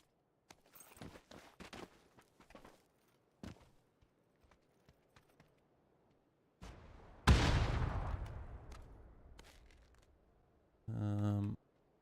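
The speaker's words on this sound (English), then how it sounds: "Someone popping a Panzer from somewhere" A Panzerfaust fired somewhere distant in PUBG, a single muffled boom followed by a long rumbling decay, after scattered soft footstep-like clicks and before a short buzzing tone.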